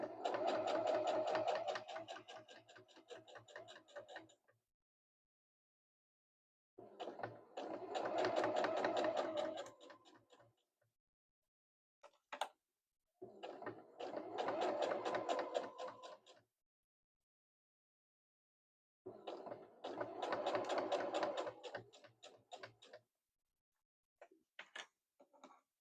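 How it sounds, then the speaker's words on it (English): A sewing machine stitches a quilted pouch in four long, steady runs of rapid mechanical needle chatter, with silent pauses and a few short bursts between them. "start stitching, back stitch just a bit"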